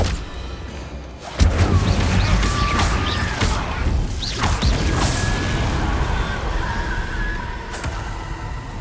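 The Incendio fire spell is cast in Hogwarts Legacy with a sudden whooshing crash and burst, followed by crackling, roaring spell effects and scattered impacts that fill the rest of the moment.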